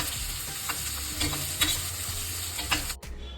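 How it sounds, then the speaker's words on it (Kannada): Chopped onions roast in hot oil with mustard seeds, urad dal and green chillies, a steady close sizzle broken by a few light stirring clicks. "ಇದಕ್ಕೆ 2 ಚಾಪ್ ಮಾಡಿರೋ ಈರುಳ್ಳಿನ ಹಾಕ್ಕೊಂಡು ಇದನ್ನು ರೋಸ್ಟ್ ಮಾಡ್ಕೋಬೇಕು"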